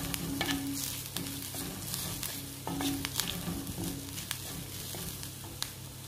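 Sautéing with turmeric powder in a pan for beans thoran, a steady close sizzle broken by repeated clicks and scrapes of a stirring utensil against the pan, no voices.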